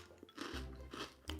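Spicy protein chips are crunched and chewed up close, with several crisp bites and grinding chews in quick succession and no talk.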